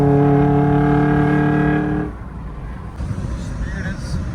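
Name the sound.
Suzuki Jimny engine sound while driving on highway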